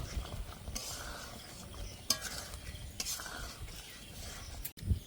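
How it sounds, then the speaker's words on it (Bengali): A spoon stirs potato and pointed gourd curry with chana dal and a spoonful of ghee in a pan, giving faint scraping strokes and low sizzling, with a few louder knocks against the pan. "এবার ভালো করে মিশিয়ে নেব।"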